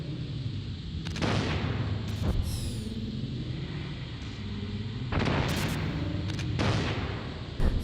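Several booming blasts from remote-controlled missile explosions in Metal Gear Solid, a few heavy bursts spaced a few seconds apart over a steady game background rumble.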